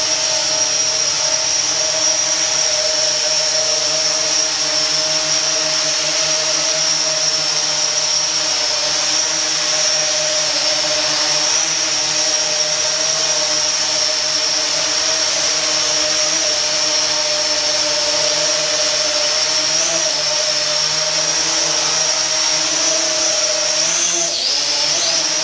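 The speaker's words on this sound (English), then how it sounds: "as you can see, it's a drone." Drone hovering over a driveway, a loud, steady high-pitched whine with constant buzzing tones holding for the whole stretch, close to the listener and alone.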